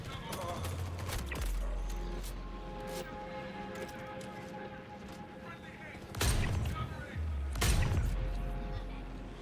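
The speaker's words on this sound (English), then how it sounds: "Suppressing fire." Suppressing gunfire in Star Citizen comes as bursts of shots over a steady in-game hum, with two loud sharp volleys standing out near the end. Voices speak at times.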